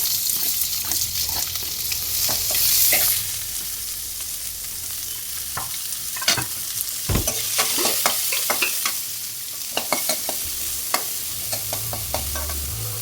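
Onion, green chilli and curry leaves stir-fried in hot tempering oil for a banana stem and lentil poriyal, a steady close sizzle broken by frequent sharp spatula scrapes and pops against the pan.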